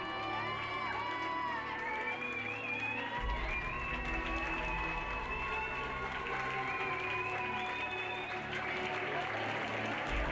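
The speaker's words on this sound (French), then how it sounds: "Et je vous demanderai de les applaudir bien fort." Applause from an audience at a pony eventing awards ceremony, a steady wash of clapping at moderate distance with music tones and a low rumble underneath, kept going throughout.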